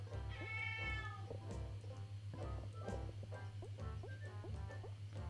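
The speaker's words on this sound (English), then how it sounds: "Don't know if you can hear the cat." An indoor cat meows repeatedly, faint and somewhat distant, under a steady low background hum, with several drawn-out cries spread across the stretch.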